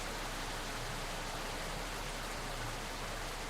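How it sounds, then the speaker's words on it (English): A nighttime rainstorm at sea in the naval game Victory at Sea: Ironclad, heard as a dense, steady wash of rain and wind noise with a faint low rumble beneath, unbroken and with no voices. "It's nighttime, it's dark, it's raining, storming."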